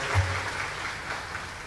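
A crowd at a Madhya Pradesh government event applauds the Chief Minister: a steady, faint wash of clapping from a distance, low and even throughout with no voices over it.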